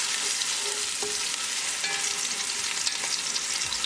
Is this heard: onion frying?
yes